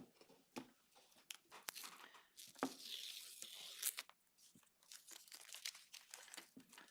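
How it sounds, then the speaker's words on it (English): Masking tape peeled off the edges of a freshly painted Rudolph the Red-Nosed Reindeer Christmas painting, a close crinkling, tearing rustle in several uneven pulls with brief pauses between strips. "And time for the tape peel"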